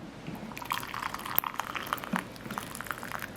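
Boiling water poured into a pot as the second of two cups for homemade lilac jelly, a soft steady liquid splash with scattered drips, close and fairly quiet, with no voices.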